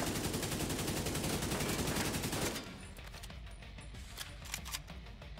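Rapid gunfire from The Division 2, played on PC, rattles loud and dense for about two and a half seconds, then drops to scattered lighter shots and clicks over quieter game ambience.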